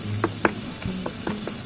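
Chopped tomatoes dropping into a frying pan of hot garlic, with a steady sizzle and short stirring clatters close up and no talking.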